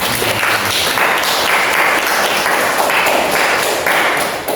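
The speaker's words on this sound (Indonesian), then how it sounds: "Ya, tepuk tangan ke Niswa." Classroom applause for a student, a steady wash of many hands clapping together at moderate loudness, sustained evenly throughout without a clear break.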